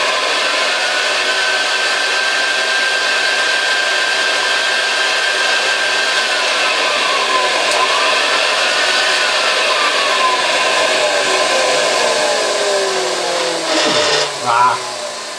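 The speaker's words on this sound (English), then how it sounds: "Let's take it off the motor. Ow! Ooh. And see how the motor itself sounds." Hoover Senior 612 upright vacuum cleaner motor running with its drive belt removed, a steady high whirring whine that holds evenly, with some handling noise near the end.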